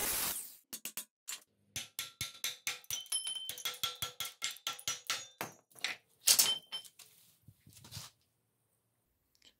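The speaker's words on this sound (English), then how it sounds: "break it with a chisel." Hammer blows drive a chisel to break a bearing off a trailer wheel hub, a steady run of sharp metallic strikes at close range, briefly pausing and ending in silence.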